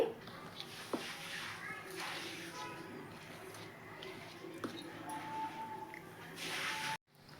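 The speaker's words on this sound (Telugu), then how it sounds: "బాగా చపాతీ పిండి కన్నా కొంచెం గట్టిగా పిసుకోవాలండి దీన్ని" Osmania biscuit dough worked by hand with ghee makes continuous close, soft squishing and squelching for several seconds, then cuts off abruptly near the end.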